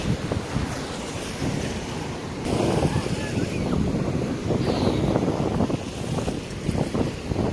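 Ocean surf washing in at a river mouth in Colombia, a constant roar of waves with heavy wind buffeting the microphone, loud and close throughout.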